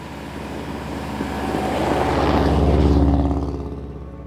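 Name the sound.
Subaru WRX engine running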